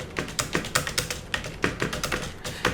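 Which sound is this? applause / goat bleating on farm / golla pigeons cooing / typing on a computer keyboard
typing on a computer keyboard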